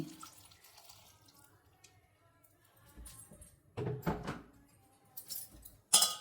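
Water is added to tamarind in a kitchen: a few quiet drips come first, then louder splashing bursts of poured or running water arrive in short irregular spurts toward the end.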